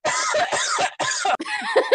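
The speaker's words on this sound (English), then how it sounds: "I still have that cough." A run of loud, close, harsh coughs in quick bursts, with a short pause before a final rasping fit.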